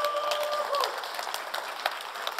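An audience in a church hall claps together, a soft, steady patter of hands that stays fairly distant and faint, with a brief tonal sound near the start.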